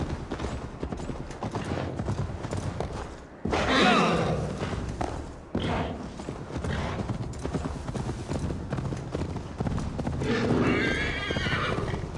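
Hooves pound in a rapid, rhythmic gallop close by, broken by loud whinnying neighs, from the video game Assassin's Creed Valhalla.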